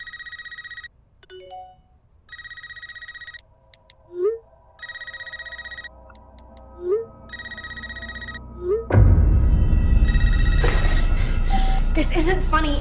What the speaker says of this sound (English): Old school phone.